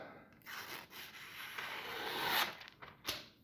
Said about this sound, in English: I actually haven't done a cutting test with this, so I'm going to do one right now